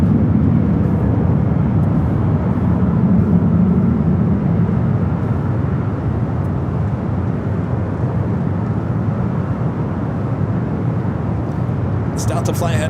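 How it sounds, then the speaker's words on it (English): A Delta Boeing 737-800 airliner at LAX airport gives a loud, steady broadband jet roar throughout, with a person talking over it. "It's Delta flight heading to SFL, flight 2272, a 737-800"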